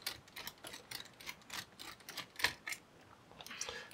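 Small screws being undone on the fan of a Lenovo IdeaPad Pro 5 16IMH9 laptop, giving faint, rapid ratcheting clicks and light mechanical ticks in an irregular stream, close up and quiet.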